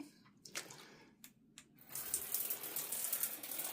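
A rechargeable travel bidet sprays water into a bathtub, beginning with a few short clicks and bursts and then a steady, fairly faint hiss and splatter of water against the tub and wall.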